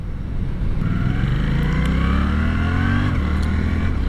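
A 2023 Suzuki GSX-8S motorcycle engine cruises near 4,000 RPM at about 50 mph, a steady droning hum with a faintly rising pitch, close and continuous under wind rush.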